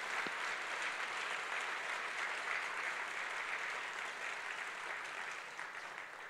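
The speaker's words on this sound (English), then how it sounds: "Please give a warm round of applause to the laureate of the Hoan Prize in Science." A seated audience at the Ho-Am Prize in Science ceremony applauds the laureate with sustained, even clapping in a large hall. The applause stays steady and moderately loud and tapers slightly toward the end.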